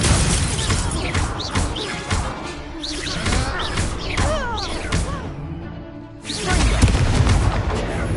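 Spell explosions booming and crashing during combat in the video game Hogwarts Legacy, with repeated heavy blasts and whooshing effects layered over game music and voiced dialogue, loud and continuous throughout.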